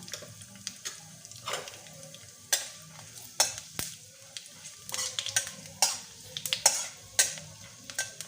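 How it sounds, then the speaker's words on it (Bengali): Dried red chilli and panch phoron frying in oil while a pickle is made: a lively sizzle with repeated scraping stirs and clinks of a utensil against the pan. "শুকনো লঙ্কা একটা হাফ চামচ পাঁচফোড়ন দিয়ে দিলাম"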